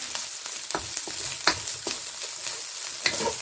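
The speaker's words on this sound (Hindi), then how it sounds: "इसको तकरीबन 3 से 4 मिनट हम इसको अच्छी तरह भूनेंगे" Chicken cutlet mixture frying in a pan, with a steady bright sizzle and a few scraping stirs of a spoon against the pan, close and fairly loud throughout.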